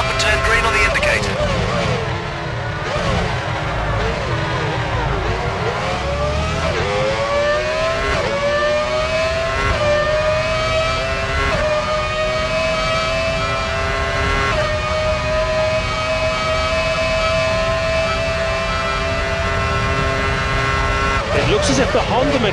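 A Formula One race car engine, Toro Rosso at Monza in a racing video game, whining and climbing through gears as it leaves the pits, loud and steady, with a commentator talking over it.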